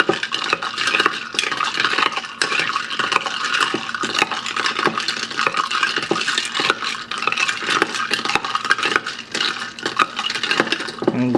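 A spoon stirs Vietnamese iced coffee with ice and condensed milk in a glass, producing rapid, continuous clinking and rattling of ice against the sides, close and steady.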